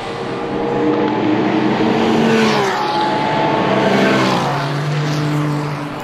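Race cars compete at the Assen Supercar Challenge, with loud engines roaring and shifting pitch as they accelerate and pass close by on the track, the sound swelling and fading across the stretch.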